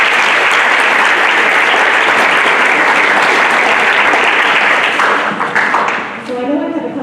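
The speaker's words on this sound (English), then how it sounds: "students, would you please give your parents a round of applause?" Students at a school board meeting give their parents a round of applause: dense, sustained clapping from a large crowd, loud and steady, thinning out toward the end as talk begins under it.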